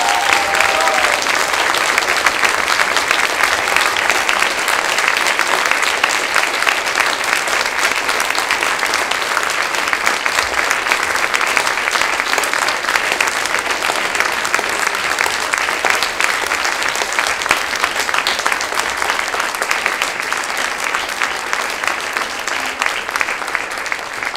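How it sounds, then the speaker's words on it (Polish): A large audience applauds with sustained, dense clapping that stays loud throughout before easing slightly at the end, at an event honouring volunteers. "Zapraszamy i wielkie oklaski!"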